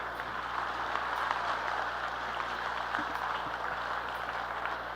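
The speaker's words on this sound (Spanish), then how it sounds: "Otra vez, un gran aplauso para este ponente y para esta mesa." An audience at a panel session applauds the speaker and panel, steady even clapping from a crowd held at a constant moderate level throughout, slightly distant, over a low hum.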